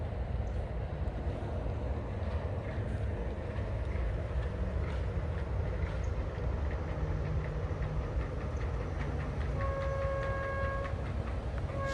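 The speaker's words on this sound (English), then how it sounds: "Excuse you, monorail." A Disney World monorail glides past at Magic Kingdom, a steady, close rumble and whir that holds for the full twelve seconds, with a few brief tonal chimes near the end.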